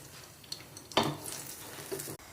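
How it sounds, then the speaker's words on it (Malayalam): Mustard seeds pop in hot oil for rava idli, giving a soft sizzle with a sharp crackling burst near the start and a few scattered smaller pops afterward, close and fairly quiet. "കടുക് പൊട്ടട്ടെ."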